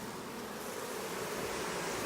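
Honeybees humming at an open hive on the Big Island of Hawaii, a soft, continuous drone of many wings holding steady with no pauses.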